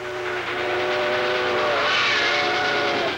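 A train rumbles along steadily while its steam-style whistle sounds in a long, loud, sustained blast that fills the whole stretch, with no voices.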